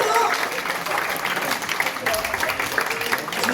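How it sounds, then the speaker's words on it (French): Applause from a workplace audience at a workers' medal ceremony, honoring a gold medal recipient; steady clapping throughout with voices and murmuring mixed in. "Donc, médaille d'or pour Cécile, on l'applaudit très fort."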